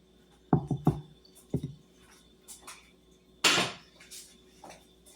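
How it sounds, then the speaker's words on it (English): A spoon stirs strawberry freezer jam with pectin in a bowl, making a few sharp clinks and taps early on, then a louder scraping swirl, close and intermittent, with no talk. "then you're going to stir this up"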